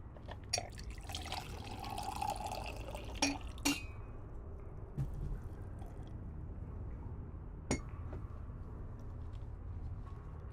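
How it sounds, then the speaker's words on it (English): A character drinks water in the game Crow Country: quiet drips and liquid splashes with glassy clinks, clustered in the first few seconds and then sparse over a soft steady background hum. "Gonna have some water first."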